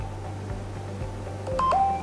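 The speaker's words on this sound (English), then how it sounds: "I should hear a little chime on my phone." A phone gives a brief electronic chime near the end, a quick pair of short tones rising over a low background hum in an indoor booth setting.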